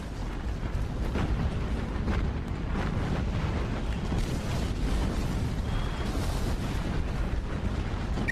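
An enemy vessel explodes in the naval combat game Battlestations Pacific, a dense, sustained rumbling blast of roaring booms and crackling bursts that fills the whole stretch loudly without pause.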